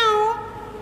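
A single short cat meow, clear and close, fading quickly into quiet.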